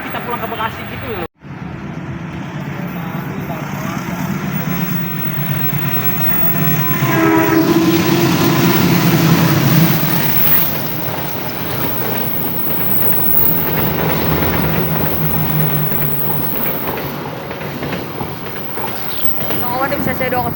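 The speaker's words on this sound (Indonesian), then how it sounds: "Lokomotif CC201 kereta api Dharmawangsa relasi Pasar Senen Surabaya Pasar Turi." A CC201 locomotive hauling the Dharmawangsa passenger train from Pasar Senen to Surabaya Pasar Turi rolls past, a loud sustained rumble with clattering wheels and a long horn blast midway, while people talk nearby.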